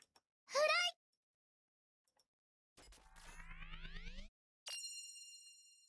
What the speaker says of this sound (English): A faint mechanical whir can be heard, and following the chime of the startup sound